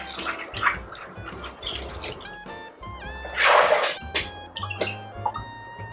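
Chinese herbs such as wolfberries, Solomon's seal and American ginseng are washed in a bowl of water, giving close splashing, sloshing and dripping in irregular bursts with a louder swirl midway and no speech.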